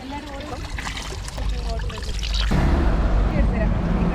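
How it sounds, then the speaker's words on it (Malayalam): Spring water trickles and splashes steadily in the mountains at Gudauri, Georgia, growing fuller toward the end, with a voice heard briefly at first. "സ്പ്രിങ് ഉണ്ടെന്നാണ് പറഞ്ഞത് അപ്പോൾ അതിൽ നിന്ന് വെള്ളം എടുത്ത് കുടിക്കാം"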